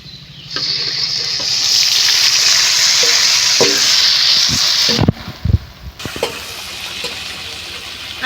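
Marinated duck meat hits a hot pan with a sudden loud, steady sizzle that holds for several seconds, followed by scattered clatters and stirring knocks as the frying continues more quietly.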